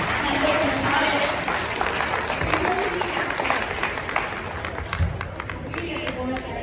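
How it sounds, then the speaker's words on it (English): Audience applause after a Beef Wellington demonstration at Harris Ranch, steady dense clapping from a crowd with voices mixed in, lasting several seconds at a moderate distance. "Give a round of applause for"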